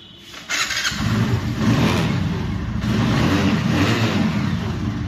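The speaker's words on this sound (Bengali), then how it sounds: "ইঞ্জিন সাউন্ড থেকে শুরু করে একটিবার সবকিছু" A motorcycle engine fires up and then revs steadily and loudly, close by, with a brief squeal at the start and no talking.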